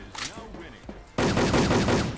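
A SCAL WKS rifle in the online shooter Wolfteam opens up in a sudden loud, sustained burst of rapid fire after a stretch of quieter game sounds and brief talk.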